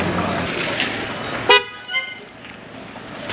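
A car horn honks right in front of a Grab taxi during a ride in Malaysia, one sharp loud blast followed by a shorter second toot, over steady road and cabin noise.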